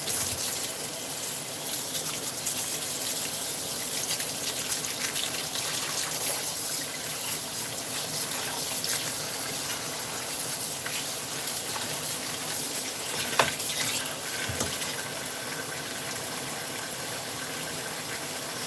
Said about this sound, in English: Just gonna let some water in there,